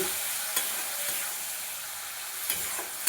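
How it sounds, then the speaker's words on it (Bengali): Spice masala for a mutton curry sizzles and fries in a pan, a steady close hiss broken by a few sharp stirring scrapes, with no voices. "মশলাটা খুব ভালোভাবে কষিয়ে নেব"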